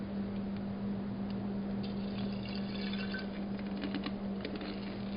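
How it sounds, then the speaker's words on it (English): Muriatic acid is poured over computer chips in a container, making a steady liquid pour and fizzing patter with faint drips, under a constant low hum, fairly quiet and close. "We're just gonna pour the muriatic acid in."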